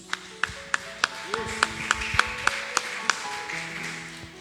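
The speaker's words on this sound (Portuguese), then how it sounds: "E as palmas que louvam o santo nome de Jesus." Church congregation clapping in praise during an evangelical service, a steady series of sharp, evenly spaced claps over a sustained tone and background murmur.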